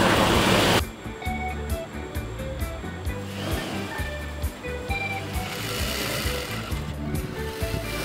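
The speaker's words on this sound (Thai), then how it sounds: "ต่อไปเราก็จะนำตรงนี้เนี่ยมาเย็บจักร" A sewing machine stitches strips of flag fabric, running in a steady, fast mechanical chatter throughout, close and fairly loud, after a brief burst of noise at the start.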